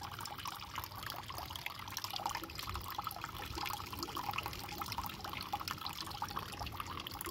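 Water from watering newly transplanted cherry tomato seedlings drains out of a rooftop planter's drainage hole as a steady close trickle and splash, continuous and even throughout without talk.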